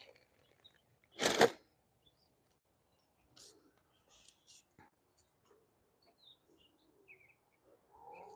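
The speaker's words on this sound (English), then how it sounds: "Birds are sounding so nice, so lovely in the garden." Garden birds singing outdoors: scattered faint, short chirps and calls spread across a quiet background, with one brief louder thump or rustle early on.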